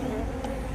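A steady insect hum comes from a large honey bee hive, about six feet long, being removed from a building in Lutcher, Louisiana; the close, continuous buzz is brief and has no talk over it.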